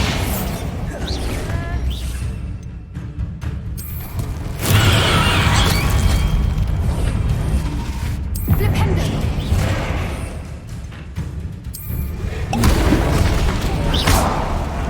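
Bombardo exploding spell in the video game Hogwarts Legacy, heard as a series of loud booming blasts with crashing, shattering debris and whooshes, several bursts rising and falling over time amid busy game action.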